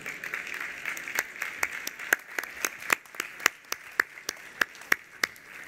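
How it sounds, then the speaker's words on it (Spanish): An audience applauds at a culinary conference talk in Madrid, a steady round of clapping with distinct sharp claps standing out near the microphone. "Vamos a recibir con un aplauso a Kiko Moya, a su equipo y a todo el equipo"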